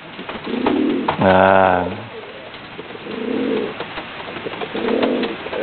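A female Tomprang high-flying pigeon coos close by, with one clear, drawn-out coo midway and softer rolling coos around it; a person says a single short word.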